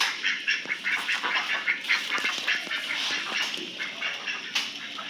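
Ducks quack at a village home, a dense, steady chorus of close, overlapping calls that carries on without a break and with no talking.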